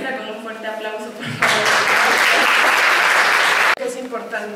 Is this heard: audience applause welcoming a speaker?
yes